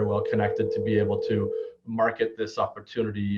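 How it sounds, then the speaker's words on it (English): A mobile phone rings with a steady, sustained electronic tone that keeps going beneath a man's continuous conversation, dipping briefly before the talk resumes. "Oh, that's my phone ringing."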